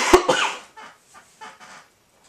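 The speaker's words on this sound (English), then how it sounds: "Sorry about the cough there." A single sharp, close cough, followed by a few softer rough breathy bursts that fade to quiet.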